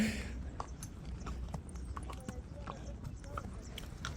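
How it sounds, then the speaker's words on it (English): A horse's hooves clip-clop in a steady walking rhythm while being ridden outdoors in the Sacred Valley, fairly close and continuous over a soft background. "Let's see if we can drive this horse a bit closer."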